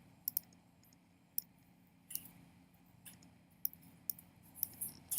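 Scattered sharp computer mouse clicks, single and in quick pairs, while drawing arrowheads in design software; faint and close against a quiet room hum, with no talking.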